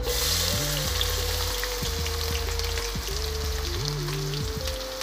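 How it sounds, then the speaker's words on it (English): Onions and carrots sizzle and crackle in hot oil for Nigerian fried rice, a steady close frying hiss throughout with a faint low hum underneath and no talking. "Now I'm going to add in my onions and carrots."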